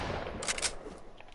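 A quick cluster of gunshots fires in a video game, a short burst of sharp cracks in the middle of the moment before fading into a low hiss, with no voices.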